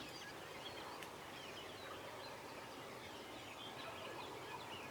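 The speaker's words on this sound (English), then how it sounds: "Man, there are turkeys gobbling all over there." Wild turkeys gobbling far off across open ground near the edge of the woods. The gobbles are faint and distant, rising occasionally above a low, steady outdoor hiss with no nearby voices.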